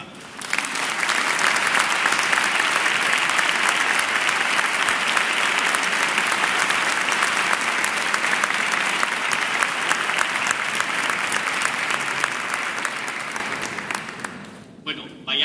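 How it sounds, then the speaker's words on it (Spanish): Sustained audience applause fills a church hall during a fifteenth-anniversary concert at Nuestra Señora de los Ángeles parish in Cabanyal, steady and dense for about fourteen seconds before fading out near the end. "Por favor, pido un fuerte aplauso para don Miguel Ángel Fontmorgado."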